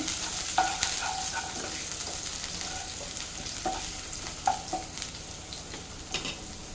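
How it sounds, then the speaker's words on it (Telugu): Onions frying in oil in a pan, a steady broadband sizzle with occasional scraping stirs and small clinks, close and moderate, no speech. "కొద్దిగా ఆనియన్స్ వేసుకుంటున్నాను. ఫ్రై చేద్దాం ఇది."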